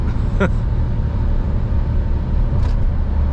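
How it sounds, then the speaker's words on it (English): A truck heading into a tunnel in Switzerland gives off a constant low road rumble, with brief faint clicks on top. "We're driving here into a tunnel."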